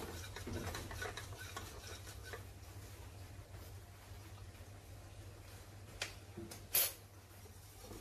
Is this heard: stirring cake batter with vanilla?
yes